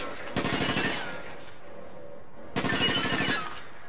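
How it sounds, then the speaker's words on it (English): Two bursts of rapid automatic gunfire in the online shooter APB Reloaded, each about a second long with a pause between, fairly loud and clear with no talking. "He just shot me, the moron."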